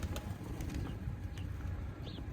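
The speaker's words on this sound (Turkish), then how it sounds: "Her yer güvercin kaynıyor." Pigeons in a loft full of birds, with soft low cooing and bursts of wing flapping under steady background noise, several birds close by.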